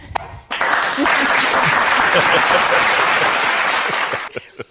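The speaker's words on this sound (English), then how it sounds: "Round of applause" A burst of sustained applause starts abruptly, holds loud and full for about four seconds, then cuts off cleanly, with brief sounds on either side.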